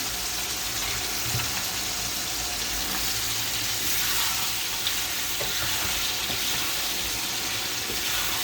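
Meat curry cooks in a pan just after water is added, giving a steady, dense bubbling and sizzling that runs loud and unbroken throughout, with no voices.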